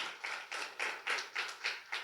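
Rhythmic clapping from a church congregation at a Telugu thanksgiving gathering in Nandigudem, about eight sharp claps in a steady beat, moderately close and alone with no voices.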